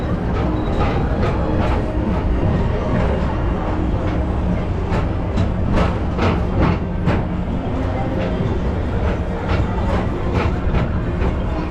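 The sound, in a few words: Tomorrowland Transit Authority PeopleMover ride vehicle moving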